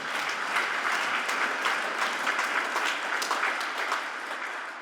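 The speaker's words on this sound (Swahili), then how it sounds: "Mpigie Roho Mtakatifu makofi." Congregation at a Pentecostal church service clapping steadily, a dense, sustained wash of applause from many hands with no speech over it.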